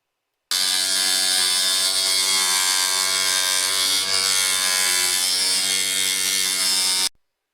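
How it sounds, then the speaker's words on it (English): A small electric cutting tool trims model railway track to length on a folding layout, a steady close high-pitched motor whine running unbroken for about six and a half seconds, then stopping abruptly. "here we're cutting the track off to length on the first section as it comes up the incline towards the station."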